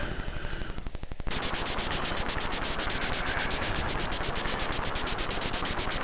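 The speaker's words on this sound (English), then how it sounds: "machine gun opens fire on them" Rapid machine gun fire from the Commodore 64 game Beach Head 2, a fast stream of evenly spaced noisy bursts over a harsh hiss, loud and continuous without pause.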